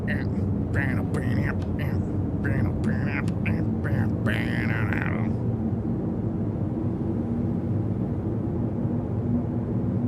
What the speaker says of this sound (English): Gotta hit the afterburner instead of burn up.